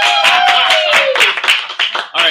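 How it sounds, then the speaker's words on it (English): Clapping at a school's 40th birthday party, close rhythmic hand claps with a voice talking over them. "Big round of applause."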